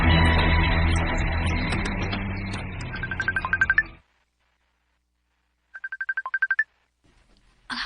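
Cellphone ringing: a loud stretch of music fades into a string of rapid electronic ringtone bursts, then after a pause a second quick burst of ringtone chirps sounds clearly and alone.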